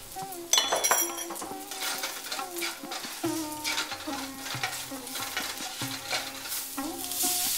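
Cumin and turmeric powder sizzle in a hot pan while a utensil scrapes and clinks against the metal, steady stirring throughout with music playing underneath.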